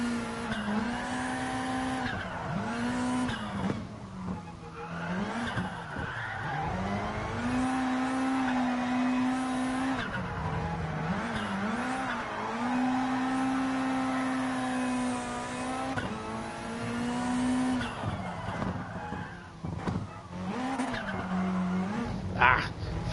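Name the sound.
rally car skidding around corner in Gran Turismo Sport video game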